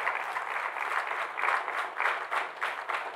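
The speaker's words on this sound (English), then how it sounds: "give God a hand clap of praise for what He's done for you this week" A church congregation claps together during a worship service, a steady, dense wash of hand clapping at moderate distance that carries on evenly for a few seconds without talk.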